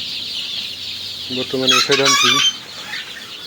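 Chicks give a short cluster of chirping, clucking calls near the middle, set against steady background hiss, with someone speaking nearby.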